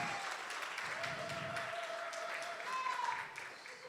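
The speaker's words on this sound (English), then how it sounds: "Envy, let's show her a round of applause." Audience applause for a singer at a gospel-style show, a soft continuous patter of clapping with a sustained musical tone and some voices underneath, easing off toward the end.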